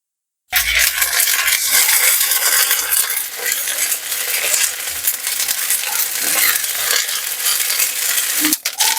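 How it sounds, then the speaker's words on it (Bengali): Ginger-garlic paste and half-browned onions fry in a pan for a Bengali rohu fish poppy-seed curry: a loud, close, steady hiss starting abruptly, with occasional light clinks of a stirring utensil. "আদা রসুন ভালোভাবে ভাজা হয়ে গেছে"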